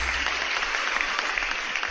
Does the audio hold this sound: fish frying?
no